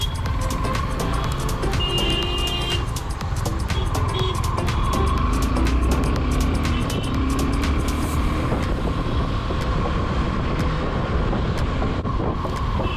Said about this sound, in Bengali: আজ বহুত জ্যাম, বাপরে বাপ